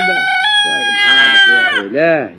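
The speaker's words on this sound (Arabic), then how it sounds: "شوفوا الديك كيف يصيح" A rooster crows in one long, loud, sustained call held for nearly two seconds, close by, followed by a short spoken phrase.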